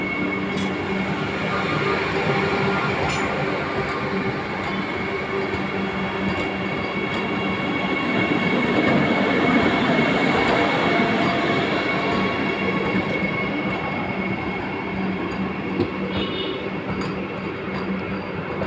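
A Vande Bharat express train passes straight through a station between Khammam and Vijayawada without stopping, a loud, sustained roar of rolling carriages with faint wheel squeal, close by and heard alone for nearly twenty seconds.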